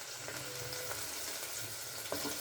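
Crushed garlic and ginger frying in a one-pot pressure cooker, a steady soft sizzle crackling at moderate level throughout with a few faint clinks, and no voices.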